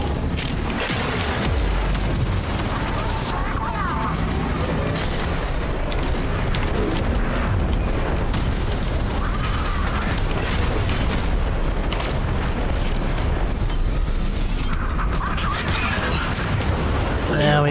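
An enemy cruise ship blowing up in the Warframe video game, heard as loud sustained booms and rumbling explosions mixed with mechanical game effects, with a voice talking over parts of it.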